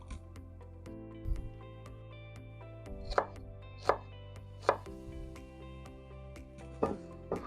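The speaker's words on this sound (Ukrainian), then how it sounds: "Ріжемо цибулю. Цибулю краще нарізати мілко." An onion is chopped finely with a knife on a cutting board, giving a series of sharp, irregular knocks over a sustained musical background with no speech.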